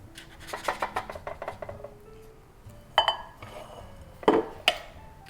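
Vegan lemon poppyseed muffin batter, refined-sugar and gluten free, is spooned into a 12-cup metal muffin tin, giving close, irregular clinks, taps and scrapes of a spoon against the tin, with brief pauses and no talking.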